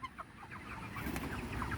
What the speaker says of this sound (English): These are the meat chickens that are done